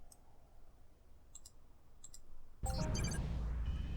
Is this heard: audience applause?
no